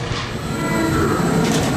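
A fairground ghost train ride at the Foire du Trône in Paris rolls on its rails with a loud, steady rumble and rattling wheel noise, heard up close without talk.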